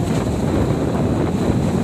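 Very strong typhoon wind buffeting the microphone in a loud, unbroken roar, a dense low rumble with rushing hiss throughout.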